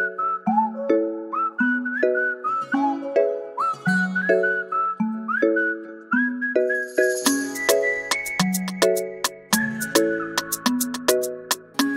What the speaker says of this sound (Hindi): बताओ भाई लोगों ने कैसी सीटी बजाई